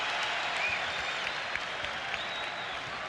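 Basketball arena crowd at Madison Square Garden during a 1996 76ers–Knicks game, a steady wash of applause and crowd noise filling the whole stretch at even loudness.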